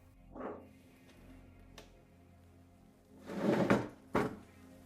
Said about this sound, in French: ces tiroirs n'ont pas été ouverts depuis des années